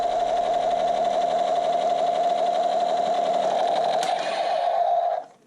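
An electronic Star Wars lights-and-sound toy gun emits a loud, steady buzzing electronic tone for about five seconds, with a brief high zap near the end before it cuts off abruptly.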